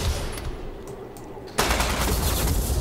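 A PKM light machine gun in the video game Ghost Recon Phantoms fires sustained rapid bursts, a dense roaring rattle that swells loudly at the midpoint and continues close up without a break.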